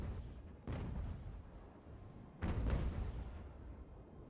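Naval cannons fire chain shot in a sailing-era battle in the game Ultimate Admiral: Age of Sail, with two heavy booming blasts a couple of seconds apart, each rolling out into a long rumbling decay.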